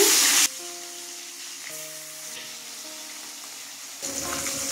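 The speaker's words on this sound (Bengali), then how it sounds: "বাকি মাছগুলো ছেড়ে দিচ্ছি।" The remaining katla fish pieces fry in oil, with a loud sizzling burst at the start that fades to a faint hiss beneath gentle background music, then swells again at the close.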